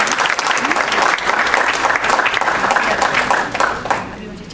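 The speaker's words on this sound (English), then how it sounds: "So a big round of applause for Dr." Dense, sustained audience applause at a hospital fundraising event in Karachi, loud and steady from a room full of clapping hands before tapering off at the end.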